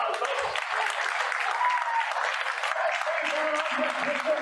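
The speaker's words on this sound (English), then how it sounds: "Give a big round of applause" Steady crowd applause from an audience at an open mic magic show, sustained for several seconds, with a host's voice talking over it.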